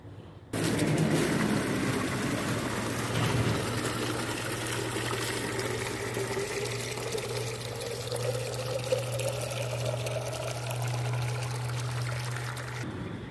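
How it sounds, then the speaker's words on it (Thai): Water trickles and pours steadily from a homemade watering can made with a spoon, a continuous close spray of droplets running without pause and with no voices. "เวลาเราลดน้ำแล้ว น้ำจะ กระจายออก ลักษณะไหนนะครับ"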